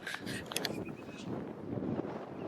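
Wind buffets the built-in microphone of a Canon R50 V camera near the top of a hill, a steady low rumble and roar across the whole clip with faint voices and clatter above it.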